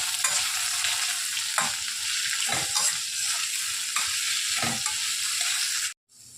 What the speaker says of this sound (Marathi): आता कांदे आपण परतून घेऊया